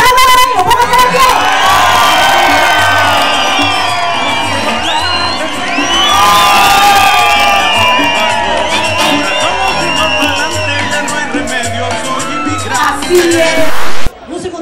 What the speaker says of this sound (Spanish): Así que un fuerte aplauso para el pueblo salvadoreño.